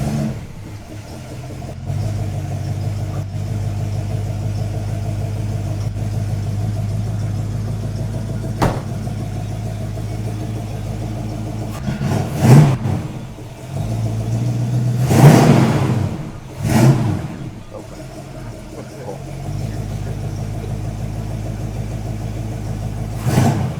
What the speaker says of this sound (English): Do you think we maybe would fire it up and hear how she purrs?